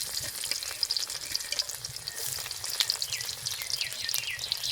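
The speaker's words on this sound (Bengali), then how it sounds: "গরম করে নিয়েছি, দিয়ে দেব জিরে ফোড়ন, দিয়ে দেব শুকনো লঙ্কা, একটা শুকনো লঙ্কা, একটু থেতো করা রসুন" Cumin seeds, a dried red chili and crushed garlic crackle and sizzle in hot oil, a dense, steady spitting hiss with quick popping bursts, close and fairly soft, with no voices.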